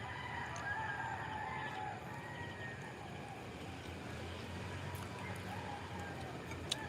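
A rooster crows in a residential area of Cebu City, its drawn-out calls rising twice over steady low background hum and distant ambient noise.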